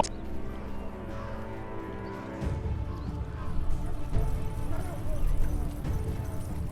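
A horse gallops in the video game Shadows over Silesia, chapter 1. Hoofbeats clop faintly at first, then a louder, denser run of hooves takes over partway through, with no speech.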